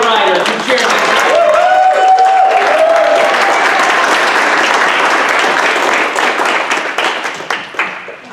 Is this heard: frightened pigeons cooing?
no